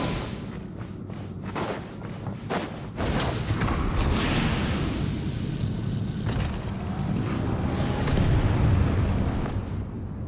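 Boat engines revving in the video game Genshin Impact, a loud, dense mechanical roar that swells after a few thumping hits and holds steady with whooshing rushes, with no talk.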